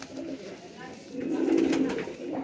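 Hobbyist's pigeons give soft, low cooing close by, swelling in the second half of a brief moment, while someone speaks.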